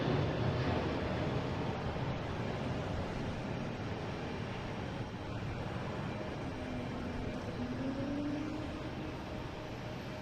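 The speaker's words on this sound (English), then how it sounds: "Cincinnati taking off, heading to Newark." An airliner departing Cincinnati for Newark roars steadily at a distance, a broad continuous engine rumble with a slowly shifting tone and no voices.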